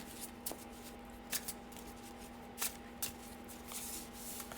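Oracle cards being shuffled by hand, quiet soft riffles and sharp flicks at irregular intervals over a steady low hum, close and faint, with no talking.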